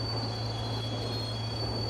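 Steady low rumble of a locomotive idling in Indian Train Simulator, a constant engine drone with a thin high whine held throughout, no talk.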